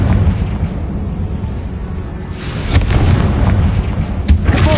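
A Confringo spell blast in the Hogwarts Legacy video game, a loud booming explosion that erupts over a dense, rumbling game soundscape and is followed by further bursts and crackles.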